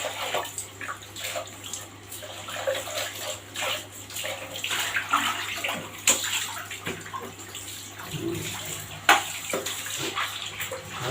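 Water splashing and pouring over a helmet during a manual wash, an uneven stream of hissing and splattering that rises and falls as the water moves over the shell, close and steady, without speech.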